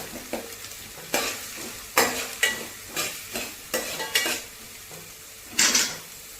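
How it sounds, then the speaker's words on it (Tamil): Onions, curry leaves and dried red chillies sautéing in oil for an eggplant kuzhambu: a steady sizzle broken by repeated scraping and clinking of a spatula against the pan, close and with no talking. "ஒரு கொத்து கருவேப்பில்லை நாலு காஞ்ச மிளகாய் அது நல்லா வதக்கணுங்க"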